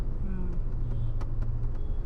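Dense traffic jammed on the Mumbai–Ahmedabad Highway near Virar, a steady low rumble of idling and crawling engines with scattered clicks and knocks close by.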